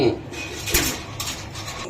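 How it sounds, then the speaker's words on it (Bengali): Domestic pigeons at a pigeon seller's coop coo softly and intermittently, close by, mixed with light clattering and background voices. "বন্ধুরা এই যে দেখেন আরো একটা পেয়ার কবুতর আমি একটু দেখাই আপনাদেরকে"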